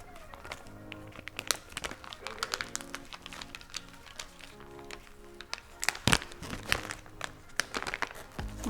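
Crinkly plastic of an MRE pouch crackling and tearing in short bursts, close up, with a sharper rip near the end and some rustling handling throughout.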